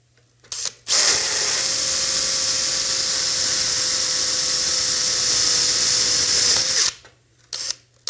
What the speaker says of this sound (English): so we should be good to drill.